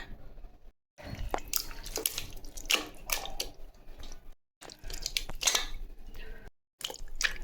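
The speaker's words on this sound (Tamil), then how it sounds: "ஆட்டுக்கறிங்க நல்லா தண்ணி ஊற்றி ஒரு நாலஞ்சு முறை இது போல் கழுவி எடுத்துங்க" Raw mutton pieces are rinsed in water in a kitchen: steady splashing and dripping in several bursts separated by brief pauses, close and moderately loud.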